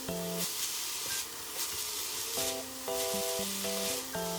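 Cabbage sizzles and crackles in a hot pan over medium heat while a spatula scrapes and stirs in bursts, with a faint tonal hum running through.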